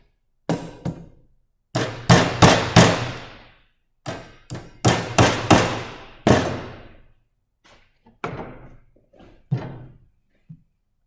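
Nails hammered to tack a hip rafter in place: bursts of sharp, ringing hammer blows in quick groups of two or three, then a few lighter taps, close and loud with pauses between groups.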